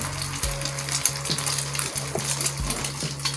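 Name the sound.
potato tikki frying on a tawa griddle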